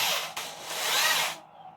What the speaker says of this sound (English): Make sure I drill a hole for the cutter.